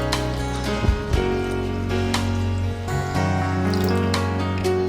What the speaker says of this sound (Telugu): చారుకు సరిపడా వాటర్ వేసుకోవాలి.